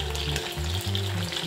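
Pieces of lemon chicken frying in hot oil, a loud, dense crackling sizzle heard up close over a low steady hum, brief and unbroken with no voices.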